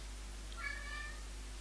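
A cat meows once, a short drawn-out cry over a quiet background hum.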